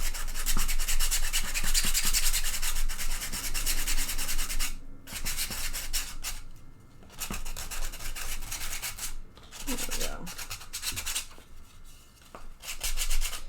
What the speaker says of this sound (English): I sand a T-Rex